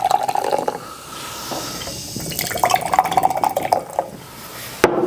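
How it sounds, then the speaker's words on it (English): Watermelon and lime soda being poured into cups, a bright continuous fizzing, splashing stream that rises and falls over several seconds, with a short sharp knock near the end. "And now Lily's going to pour the drinks."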